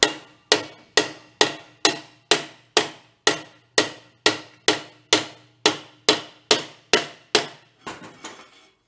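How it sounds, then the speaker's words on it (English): Hammer whacks on a rusted Harley cart transaxle from a scrap yard, a steady series of about sixteen sharp metallic strikes at an even pace, loud and close, ending with a few lighter taps. "Let's give it a couple of whacks."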